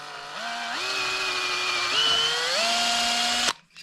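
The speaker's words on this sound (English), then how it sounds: "we need to drill a couple of holes" A power drill whines steadily for a few seconds, its pitch stepping up and down as it bores holes through a wooden snowman Christmas decoration, then stops abruptly.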